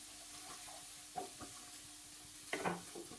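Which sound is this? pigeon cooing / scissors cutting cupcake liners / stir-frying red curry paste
stir-frying red curry paste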